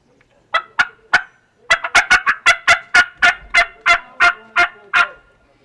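A mouth call imitates a turkey hen's fly-down cackle: a loud, close run of about fourteen sharp yelps. A few spaced notes open it, then a quick, uneven burst follows. No one speaks.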